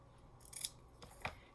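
Scissors snipping through paper or card while building a shadowbox, a few distinct close cuts: one longer slice followed by two quick sharp snips, with no talk over them.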